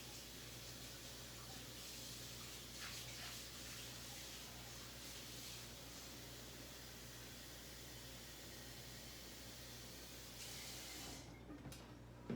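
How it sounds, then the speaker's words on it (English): Water running from a kitchen tap into a bowl, a soft, steady hiss and splash that continues evenly for several seconds before cutting off near the end, fairly faint and without talk. "I'm going to get a bowl of water to keep next to me"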